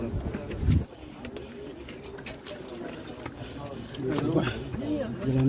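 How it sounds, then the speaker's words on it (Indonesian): Pigeons coo softly in the background amid outdoor bustle on a path up Jabal Nur, with footsteps and some voices nearby. "Banyak burung merpati."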